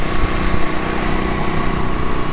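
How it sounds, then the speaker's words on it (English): A skid steer moving trusses on a building site, its engine running in a loud, steady droning rumble at close range, with no talking. "Moving some trusses right now with the skid steer."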